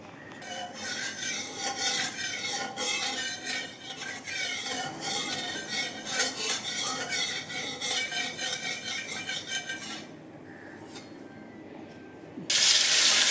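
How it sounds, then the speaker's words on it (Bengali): Lata fish (snakehead) dropped into a small amount of hot oil in a hot wok, giving a steady loud broadband sizzle and crackle that runs for about ten seconds, then quietens before a sharp hissing burst near the end. "এই যে মাছগুলো ছেড়ে দিচ্ছে মাছগুলো এখন ভেজে নেব ভালো করে"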